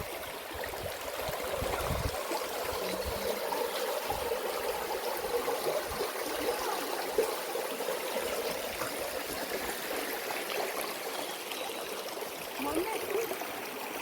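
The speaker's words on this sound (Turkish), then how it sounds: "Kaynak değil, şelale varmış" Water from a waterfall runs down as a stream through Istranca forest, a steady broadband rush and trickle that holds at a constant level from start to finish, with no talk over it.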